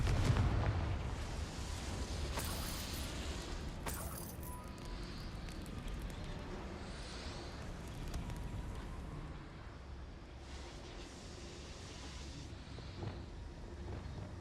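A Confringo blasting spell going off in the Hogwarts Legacy game: a heavy booming burst near the start, then a rumbling wash of explosion noise and scattered crackling impacts that fade out, with no talking.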